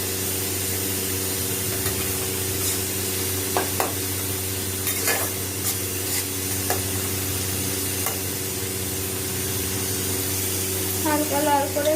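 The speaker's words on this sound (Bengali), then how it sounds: "এবার এর মধ্যে দিলাম রসুন কুচি, এগুলো হালকা লাল করে একটু ভেজে নেব।" Chopped garlic fries in a pan with a steady, close sizzle over a low hum, with stirring noises and a brief voice near the end.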